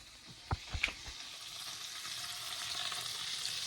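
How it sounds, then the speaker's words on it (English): Quiet, continuous sizzle of zucchini frying in butter in a pan, with a few brief clacks of a utensil at the start, then an even hiss. "Now I'm frying the zucchini."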